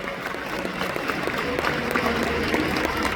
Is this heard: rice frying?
no